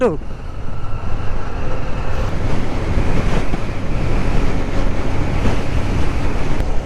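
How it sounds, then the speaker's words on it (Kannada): Strong seaside wind at Kanyakumari rushes and buffets the microphone in a constant, loud roar, with a surf-like wash underneath throughout. "ಇದೇನ್ರಾ ಹೆವಿ ಗಾಳಿ ಓಡ್ತಿಕ್ಕೆ ಆಗ್ತಾಯಿಲ್ಲ"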